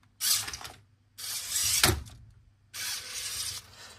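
A LEGO McLaren MCL39 F1 car with a Power Functions kit has its rear motor run in three short whirring bursts, each about a second long, with a faint click in between.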